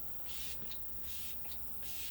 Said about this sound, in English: Let's go ahead here and give ourselves a little spritz.